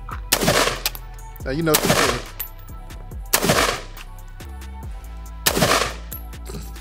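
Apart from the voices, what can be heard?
AR pistol gunfire, magazine dump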